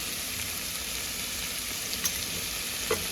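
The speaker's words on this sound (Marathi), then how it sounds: "चांगला भाजून घ्यायचा. ह्याच्यामध्ये हळद घ्यायचा अर्धा चमचा." Chopped bottle gourd bhaji with turmeric roasts in a pan, giving a steady, close hiss of frying with a couple of faint stirring scrapes and no talking.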